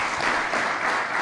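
Brief burst of audience applause at a national economic recovery plan consultative workshop, a dense, steady wash of many hands clapping at moderate volume with no talk over it.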